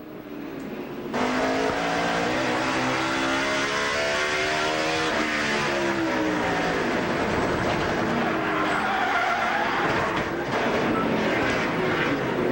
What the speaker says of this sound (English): Listen for the chattering of the rear tires from this onboard view.